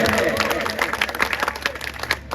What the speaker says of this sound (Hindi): तालियां कमजोर है